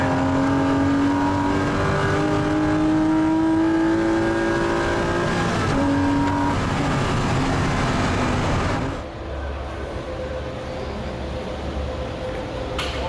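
A Porsche race car roars loudly on the circuit at Oulton Park, holding a high engine note with a gear change, then fades to a lower, rougher rumble as it crosses the line.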